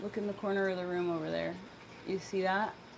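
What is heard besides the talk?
No everyday noises stand out.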